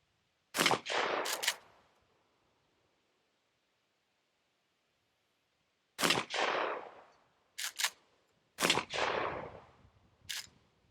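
Shots from a SIG P320 9mm pistol fired over a chronograph outdoors: sharp loud reports in a quick pair, then after a pause a burst of several more, each with a short decaying tail, no talking.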